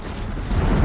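A bridge giving way in Horizon Zero Dawn, a short, loud, low rumbling crash that swells toward its end.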